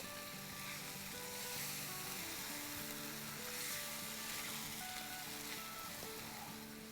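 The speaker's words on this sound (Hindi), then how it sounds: "तो चले अब हम टमाटरों के साथ इसको भूनते हैं।" A biryani base of egg and potato masala fries with tomatoes in a pan, giving a steady close sizzle that holds evenly throughout, with faint tonal sounds in the background.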